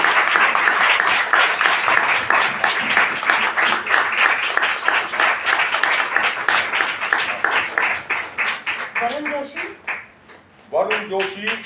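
Audience applause at a stage event, many hands clapping densely and loudly for about eight seconds before thinning into scattered claps, a brief lull, then a short renewed burst near the end.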